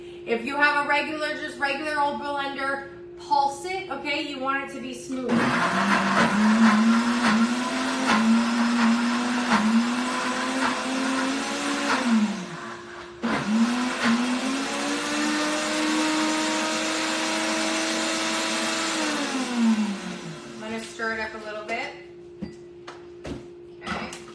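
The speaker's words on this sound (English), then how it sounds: "So I'm just gonna put the lid on my blender and I'm just pulsing it." A Pampered Chef blender making lemon cheese pound cake batter with cottage cheese whirs loudly in two long bursts with rising and falling motor pitch, separated by a brief pause, with a person talking before and after.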